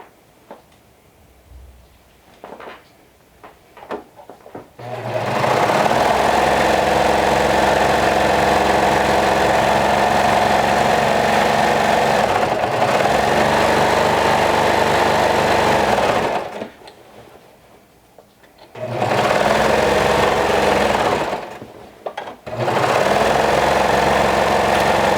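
A sewing machine stitches side seams on a garment with right sides together, running in long continuous bursts with short pauses between, loud and close with a steady motor hum.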